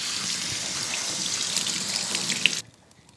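Water runs steadily from a kitchen tap into a sink as ingredients are rinsed, a continuous close hiss that stops abruptly near the end.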